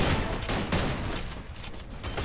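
Gunfire in the video game Free Fire, a sniper rifle among the shots: a dense burst of loud, overlapping shots over about two seconds, close and continuous, with no talking.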